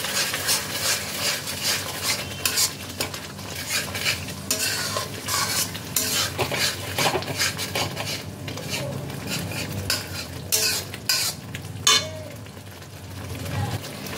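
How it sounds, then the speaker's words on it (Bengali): Spice masala cooked down with beaten sour yogurt in a pan for chicken do pyaza, steady sizzling frying under repeated scraping and clinking of a spatula against the pan. "টক দইটা দিয়ে মশলাটাকে আরও একবার ভালোভাবে কষাতে হবে।"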